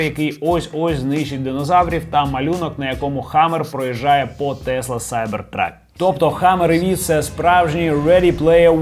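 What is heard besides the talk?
No everyday noises stand out.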